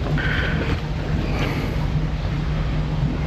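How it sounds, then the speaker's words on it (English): Wind buffets a boat fitted with Seastar hydraulic steering, a steady, roaring broadband rush that stays loud and close for the whole stretch with no one speaking. "It's very windy."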